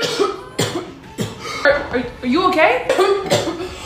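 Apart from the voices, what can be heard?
person coughing repeatedly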